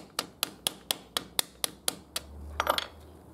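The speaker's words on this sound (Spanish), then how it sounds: "Con un martillito, chico." A small hammer cracks almond shells picked from the tree: about nine evenly spaced, sharp taps at close range, then a quick cluster of cracking and shell clatter, with no talk.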